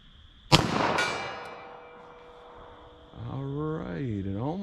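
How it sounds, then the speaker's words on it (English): A single loud 9mm shot into ballistic gel cracks sharply and rings out briefly, followed by a second fainter report. After a lull, a wavering hum-like voice tone comes in. "let me take out one shot with this 9mm in center mass"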